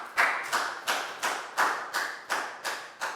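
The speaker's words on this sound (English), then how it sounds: "Big round of applause for Nadia" Applause for a pupil named Nadia in a Year 4 maths classroom, made of nine regular, fairly loud bursts of clapping in a steady rhythm, with no talking.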